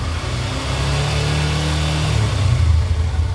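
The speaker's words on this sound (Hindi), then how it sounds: "इंजन बिना थ्रॉटल दिए ही अपने आप रेस होते चला जाता है।" A motorbike engine racing on its own without throttle, caused by a throttle cable fault when the handlebar is turned right; a steady, close, low engine drone that swells and roughens slightly toward the end, with no talking.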